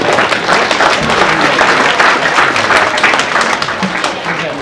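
Loud audience applause at the inauguration of a private middle school in Mbour, Senegal, with many hands clapping in a dense, continuous roar that tapers slightly toward the end.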